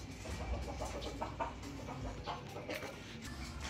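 Two hens cluck softly in a farmyard, low and somewhat distant, scattered short calls over a steady background.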